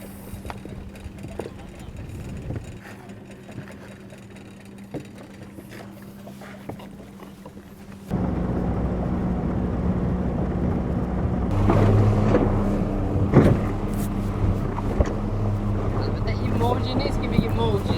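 A small motorboat rides on the sea off Bandar Khamir, Iran: a steady engine drone with wind and water noise grows louder and fuller midway, while people talk over it.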